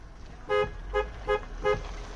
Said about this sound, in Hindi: तो हॉर्न इसका काम कर रहा है